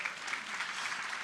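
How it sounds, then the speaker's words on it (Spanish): A church congregation applauds the King during a Spanish-language sermon, a short burst of steady, moderately distant clapping filling the room. "Vamos a darle un aplauso al Rey."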